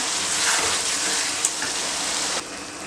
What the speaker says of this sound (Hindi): मैं इसमें 2 गिलास पानी डाल रही हूँ।